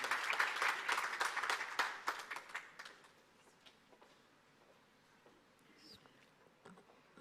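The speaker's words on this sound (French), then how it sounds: "Sous vos applaudissements, s'il vous plaît" Audience applause breaks out at a talk on African governance and institutions: dense, loud clapping for about three seconds that quickly dies away, followed by a single voice beginning to speak.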